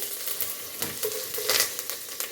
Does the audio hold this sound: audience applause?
no